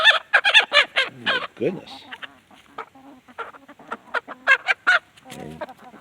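Laying hens in a backyard chicken run cluck loudly and busily, with overlapping squawks and honk-like calls close by; a brief spoken exclamation comes in under the birds.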